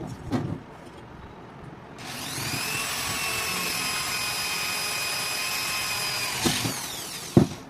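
Handheld electric drilling machine boring into an egg moving tray for an incubator, a sustained high whine that starts abruptly after quiet handling noises, holds steady for several seconds, then cuts off, followed by a few knocks.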